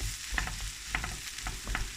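Bubble and squeak sizzles and crackles steadily in a frying pan, with soft scraping from stirring, no voices.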